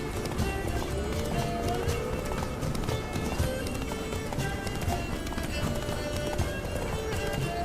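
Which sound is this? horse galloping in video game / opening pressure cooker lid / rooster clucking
horse galloping in video game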